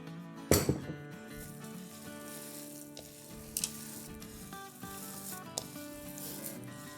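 A potato mixture sizzles in a pan after oil goes in, a steady close frying hiss with a few clanks and scrapes of stirring, no talk.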